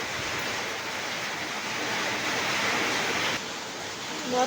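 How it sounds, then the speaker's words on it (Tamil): Heavy rain driven by gusting wind, a dense, steady roar of downpour that holds loud for several seconds, eases slightly, then swells again at the end. "காற்றும் அடிக்குது மழையும் வருது"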